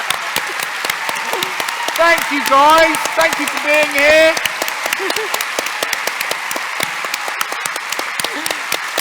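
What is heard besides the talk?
audience applause at end of live event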